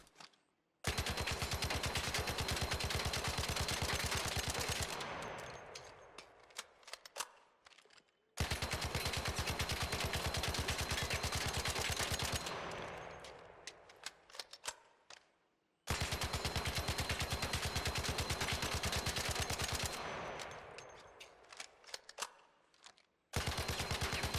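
Tempest rifle fitted with a compensator firing in the video game ARC Raiders: three long, loud sustained bursts of rapid automatic fire, each tapering off with a trailing echo before a short pause.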